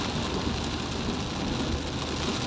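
Steady rain falls along a rough road in the countryside, a constant broadband patter and hiss at moderate level, with no speech over it.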